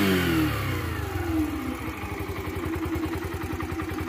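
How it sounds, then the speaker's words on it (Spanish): A Yamaha YBR125G 125cc motorcycle engine revs up from low, its pitch climbing steadily, then settles into a steady rhythmic drone with a fast pulsing beat. "Es un motor muy silencioso que por el cilindraje, pues lógicamente no tiene que tener un sonido tan agresivo"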